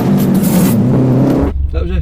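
A Subaru WRX engine on launch control and antilag testing revs hard and loud, then cuts off abruptly and sputters lower for a moment, with a voice nearby.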